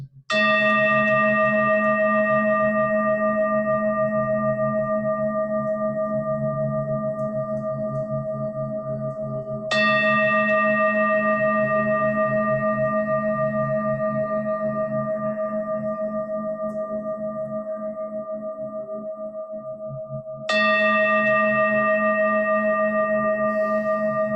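Three resonant bell strikes, each ringing out long and slowly decaying before the next, loud and clear with no talking.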